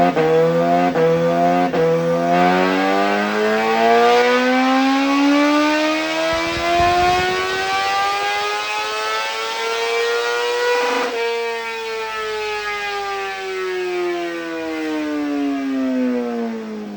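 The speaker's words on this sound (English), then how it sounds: "It's modified stock exhaust, so it's a stock header cut off and then an M4 slip-on" Suzuki GSX-R750 motorcycle with a cut-off stock header and an M4 slip-on exhaust revs hard, a loud, close engine note that climbs, holds high and falls back in long rising and dropping sweeps, with no talking.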